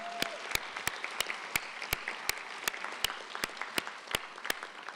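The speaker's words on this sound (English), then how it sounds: "Let's give them another round of applause for their..." Audience applause at a college new student convocation, a steady wash of many clapping hands filling the room, with regular sharper claps standing out close by through the five seconds.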